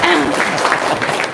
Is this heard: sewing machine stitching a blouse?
no